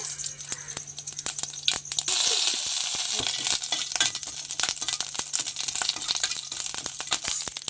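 Okra chutney being tempered in hot oil in a pan, a steady bright crackling sizzle with sharp pops and scattered clinks running throughout, close and fairly loud.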